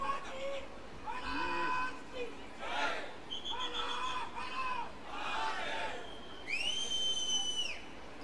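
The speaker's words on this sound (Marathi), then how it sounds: "बघा, टाळ्या शिट्ट्या घोषणा चालू आहेत," Crowd at a political rally in an open-air theatre, with shrill whistles rising and falling over a babble of chanting voices and shouts, loud and continuous, clapping not clearly separate.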